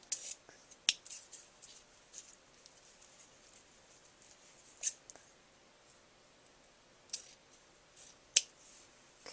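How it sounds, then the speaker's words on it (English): Scissors snipping a small bundle of craft sticks, several short crisp cuts scattered at irregular intervals over a quiet background with faint rustling between them. "I think I'm going to trim this just a bit."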